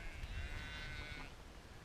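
Sheep bleating in a field in Snowdonia, a couple of wavering, nasal calls at moderate distance over a low outdoor rumble, with no talking.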